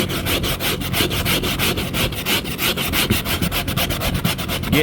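Rapid rhythmic scraping of old fabric off a fiberglass headliner from a 2002 Chevy 1500 truck, a close, continuous raspy back-and-forth rubbing with no talk.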